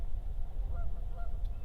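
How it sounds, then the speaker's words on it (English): Geese returning to open water by the docks at a lakeside swim beach honk faintly in the distance, two or three brief calls over a steady low outdoor rumble. "I can hear the geese in the background coming back"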